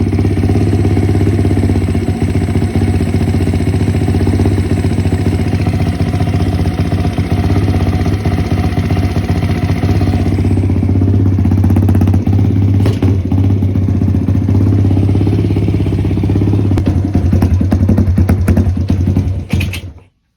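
A SSR YX140 pit bike engine runs loud and close throughout, a steady rough idle with clattery uneven firing that sags and bogs rather than revving cleanly, cutting off at the end.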